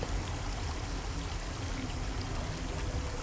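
Water runs steadily past in a stream, a continuous broadband rush and gurgle that stays close and even throughout with no voices.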